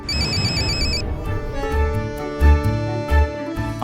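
A telephone rings loudly with a bright electronic warbling ringtone, first a high trilling pattern and then a lower repeating ring tone with a few thuds underneath, no voices.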